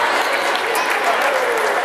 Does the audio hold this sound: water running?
no